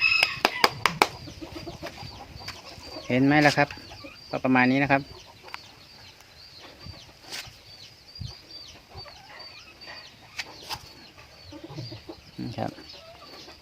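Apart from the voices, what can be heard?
chickens clucking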